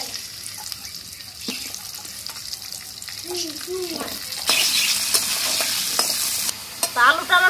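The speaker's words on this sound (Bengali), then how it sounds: "এবার আমি আলুটা ভেজে নেব।" Potatoes frying in a pan of oil for a cauliflower, potato and rohu fish curry in a home kitchen, a steady sizzle with stirring scrapes and clinks, growing louder midway, with a brief burst of talk near the end.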